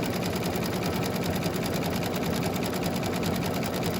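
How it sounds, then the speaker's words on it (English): Embroidery machine stitching a dress boutique hanger design, a steady fast mechanical whir and rapid needle chatter running evenly throughout, close and unbroken. "So it's just going to stitch up the other side of the pole."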